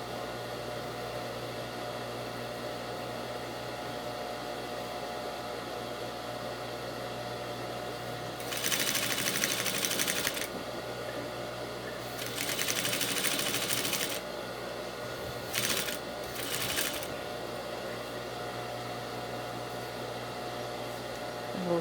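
A sewing machine stitches fabric pockets in short bursts: four quick runs of whirring needle motion, two longer and two brief, separated by pauses over a quiet room hum, with no talking.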